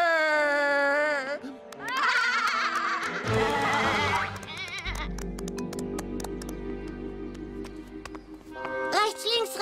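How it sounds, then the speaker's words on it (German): A sheep-like bleat with wavering, stepped tones opens the scene, joined by other bleating cries and music-like tonal layers, with loud, busy sound throughout. "Aber ich bin ein Schaf."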